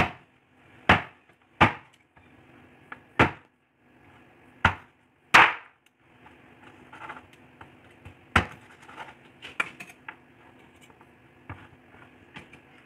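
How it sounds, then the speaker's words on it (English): A knife or cleaver chops oven-cooked Jamaican jerk pork on a board, with about six sharp, evenly spaced whacks followed by a quicker, lighter run of irregular cuts, close and crisp in a quiet room. "You just want to chop it up like that."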